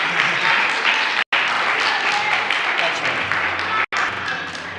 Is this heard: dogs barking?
no